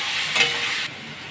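Spiced paste of ground cumin, coriander, chilli and salt sizzles in a pan of potol and potato curry, a close, steady hiss with a brief stirring surge before it quiets.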